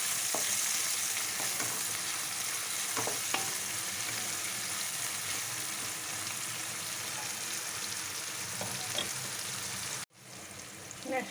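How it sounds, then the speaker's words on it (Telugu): Chopped onions fry in a pan for a chicken fry, giving a steady, close sizzle with occasional stirring scrapes, continuous throughout until a brief cut near the end. "కట్ చేసుకున్న ఆనియన్స్ దోరగా వేయించుకోవాలి"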